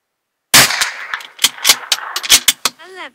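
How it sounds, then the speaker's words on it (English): Shots from a Winchester T22 .22LR rifle ring out sharply as a string of snappy cracks fired in fairly quick succession at a range, loud and close after a short silence. "let's start shooting for groups"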